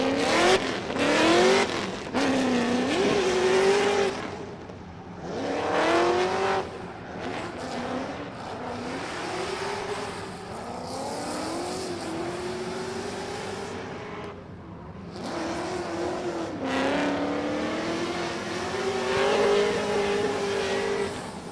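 A drift car at the Oman International Drift Championship 2023 qualifying revs hard in repeated rising and falling surges, with tires squealing loudly throughout and brief lulls between bursts.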